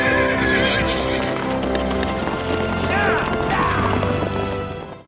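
Horses gallop hard with dense drumming hoofbeats while neighs rise sharply over the din, all under a swelling score in a western television adventure series, loud and continuous before fading out at the end.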